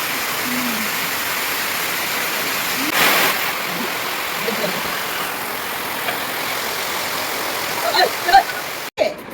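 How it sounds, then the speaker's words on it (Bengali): Steady rain pours down at a riverside cafe on the Torsha river, a dense, constant hiss filling the whole stretch, with a few brief knocks and rustles near the end. "বৃষ্টি হচ্ছে, দাঁড়িয়ে আছি।"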